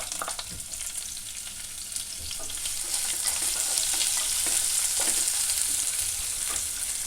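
Chopped onion sizzles in hot oil with fennel seeds for a mushroom stew, a close, steady crackling fry that swells slightly louder partway through, with occasional stirring scrapes and no talking.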